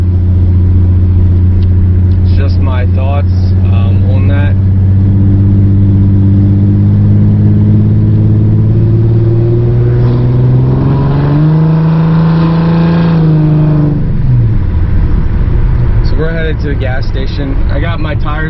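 A Ford Mustang with a 4.0 V6 and idle chop mod drives on the road, a loud steady engine drone that climbs in pitch mid-clip then settles back, with someone talking intermittently over it.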